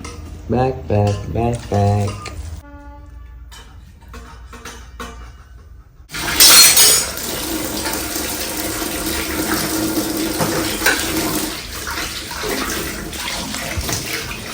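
Dishes and utensils clatter and clink under running tap water at a kitchen sink. The washing stays loud and steady after a short stretch of quieter sounds at the start.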